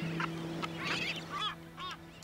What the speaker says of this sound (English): we found hundreds of thousands of birds